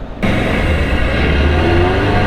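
A 38-year-old camper van accelerating hard along a dual carriageway, its engine a loud, steady drone with a rising whine and constant road noise from start to finish, no talking.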